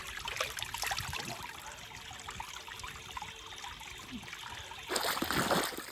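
Cold water trickling down from a rock at a forest bathing spot in Horsley Hills, Andhra Pradesh, a steady close splashing trickle that swells louder near the end.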